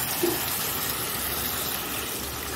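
Water pours in a steady, even rush into a pot of cooking taro curry, close and unbroken for the whole stretch.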